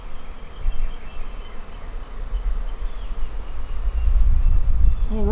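A massive honeybee swarm pours out of a blue hive, a dense, continuous buzzing drone that swells louder toward the end, with no voices.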